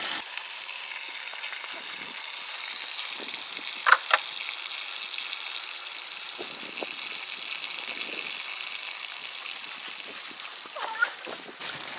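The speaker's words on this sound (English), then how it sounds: "Let the water go." Water splashing and gushing as it drains out of an RV's Suburban water heater once the drain plug is pulled, a steady sloshing wash with a few brief louder splatters.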